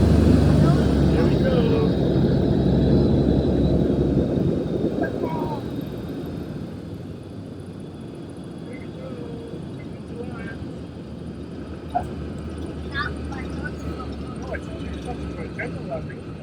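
A de Havilland Dragon Rapide classic biplane landing: a steady, broad engine and airflow drone that eases slightly as it settles, with faint rattles and small knocks, heard from inside the cabin at a constant level.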